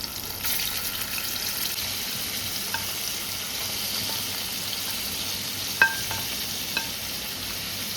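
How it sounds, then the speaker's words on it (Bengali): Cubed paneer frying in hot oil gives a steady, fairly loud sizzle that goes on throughout, with a few small clinks and taps of a utensil on the pan. "এবার এই পনিরটা আমি এর মধ্যে দিয়ে দিচ্ছি।"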